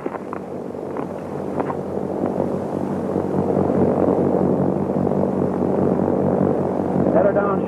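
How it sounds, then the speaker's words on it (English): Propeller airplane in a 1930s Western, a droning engine hum that swells and grows louder over several seconds, with wind noise and faint background voices. "Airplane!"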